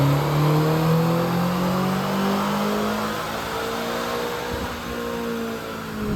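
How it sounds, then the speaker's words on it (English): A Land Rover Defender Octa strapped to a chassis dyno for a baseline pull on 91 octane, its engine climbing steadily in pitch under load, loud and continuous, then easing slightly near the end. "we got the car strapped on the dyno"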